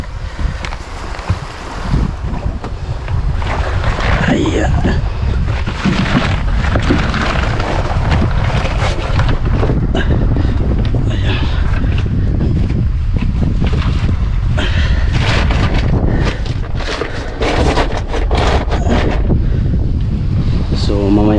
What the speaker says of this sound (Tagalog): medyo malakas din ang hangin konti